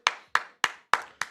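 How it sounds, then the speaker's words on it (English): Five sharp, evenly spaced hand claps ring out close and alone, cheering the Washington Commanders defense during the NFC Championship game against the Eagles. "Clap it up for the Commanders defense."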